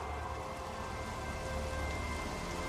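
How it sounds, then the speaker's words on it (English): Light rain falls steadily as a tabletop fantasy game's sound effect, a constant, even patter and hiss with no voices over it. "The light rain starts to fall."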